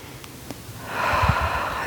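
A single breath drawn in during a stretch, a soft airy inhale that swells near the microphone, alone and without talk.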